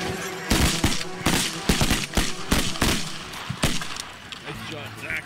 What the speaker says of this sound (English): Nice shot, Zach.